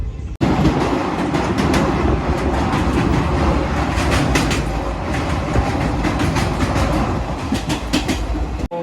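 The Saurashtra Express train runs loudly on rails approaching Vadodara Junction, with a continuous rumble and rhythmic clickety-clack of wheels, close and steady throughout, no voices.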